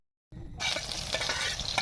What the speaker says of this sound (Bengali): সুন্দর করে লাল লাল করে ব্রেস্তা ভাজা হয়ে গেল।